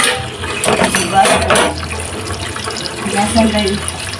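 Kitchen tap water runs steadily into a sink as cooking utensils are washed after preparing chicken cordon bleu, with someone talking over the splashing throughout.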